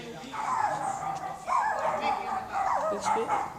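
Dogs bark, yip and whimper in repeated bursts throughout, fairly close and loud, mixed in with someone talking over them.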